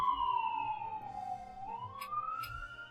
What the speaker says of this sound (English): I'm gonna drink while that ambulance goes by.